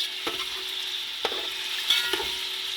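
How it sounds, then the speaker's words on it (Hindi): Haleem ingredients frying and being stirred in a pot, a steady sizzle with a few distinct scraping stir strokes spread across the clip, close and fairly quiet, with no talking. "तकरीबन इसको 5 मिनट भूनना है इसके अंदर।"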